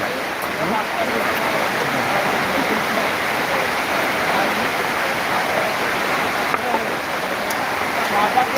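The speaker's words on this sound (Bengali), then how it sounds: "আমাদের এখানে জল প্রচুর পরিমাণে হচ্ছে" Heavy rain pours down steadily in a village setting, a dense, unbroken roaring hiss that stays loud and even throughout with no clear individual drops standing out.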